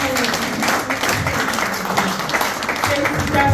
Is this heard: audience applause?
yes